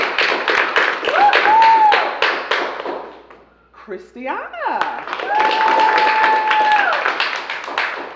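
An audience at a middle school poetry slam claps for a poet in two bursts of brisk applause, separated by a short lull in which a voice calls out a name, with a thin whistle-like tone riding above the clapping.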